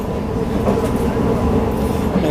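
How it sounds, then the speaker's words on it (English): The Ellenbrook train rumbles past steadily and loudly for a couple of seconds, a continuous low rolling drone with no talk over it. "So there's the Ellenbrook train."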